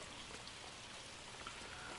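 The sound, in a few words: rain in video game L.A. Noire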